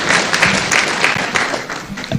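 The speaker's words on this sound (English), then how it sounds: "Let's give them a round of applause. Let's clap for our panelists." A crowd at a UDA party comrades chapter event in Nakuru claps for the panelists, a close, continuous burst of applause with no pauses.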